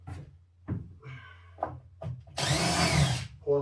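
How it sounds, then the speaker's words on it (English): Power drill countersinking into barn floor wood with a Phillips head bit, short whirring bursts and knocks followed by one longer, louder grinding run near the end. "I use my Phillips head as a countersink tool"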